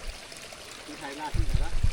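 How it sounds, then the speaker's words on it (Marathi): Water seeps and trickles from rock on a Konkan plateau during the rainy season, making a soft, continuous hissing trickle. Voices join in over the second half. "झिरपूनच येतं पाणी"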